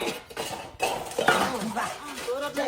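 Metal utensils and dishes clatter as they are picked up and put away, with irregular clinks and scrapes spread across the moment while people talk nearby.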